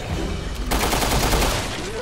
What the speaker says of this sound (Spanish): Falta power a esta ametralladora.